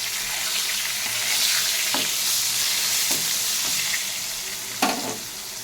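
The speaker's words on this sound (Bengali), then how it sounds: "বেগুনটাকে লাল করে ভেজে উঠে নেব।" Salted eggplant slices fry in hot oil with a steady, close sizzle, broken by a few soft clinks and stirring sounds.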